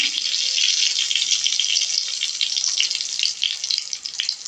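Cumin and turmeric frying in mustard oil, a continuous hissing sizzle close by that crackles and fluctuates slightly toward the end, with no voices.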